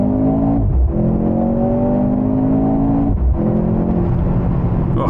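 A 2023 Mercedes-AMG C43 with an electric turbocharger accelerates hard on a dual carriageway, its engine note climbing steadily through two gear changes, loud and close from inside the cabin.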